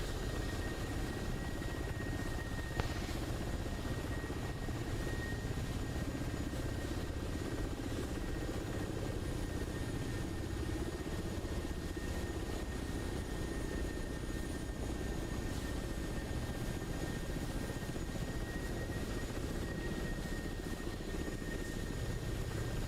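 Distant Mi-24 helicopters circling in a video game battle, a steady low rotor and engine drone holding throughout with no speech, broad and even rather than close.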